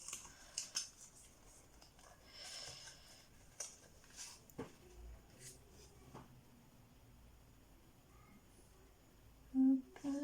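Scissors snip paper during scrapbook crafting, a few faint, scattered crisp cuts and taps at close range in a quiet room.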